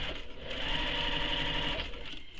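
A sewing machine base-stitches binding around the edge of a fabric bag, running as a steady, close, continuous mechanical whir for the whole moment.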